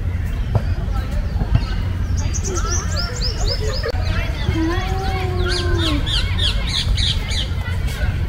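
A bird calls repeatedly in a New Delhi park, a series of clear rising and falling squawks and chirps over steady outdoor hum, with people talking nearby.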